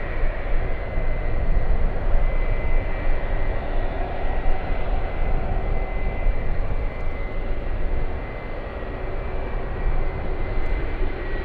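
A Boeing 757 jet airliner's engines at an airport, a steady loud broadband roar that holds throughout and eases slightly near the end.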